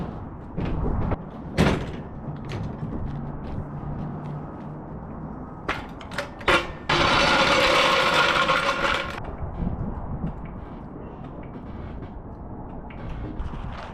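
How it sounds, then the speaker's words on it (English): A storage unit door rolled shut, a dense sustained rattle lasting about two seconds, preceded by scattered knocks and clanks, set in a quiet, echoing space. "I had to test to make sure the unit door still closes"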